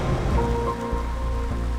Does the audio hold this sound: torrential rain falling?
yes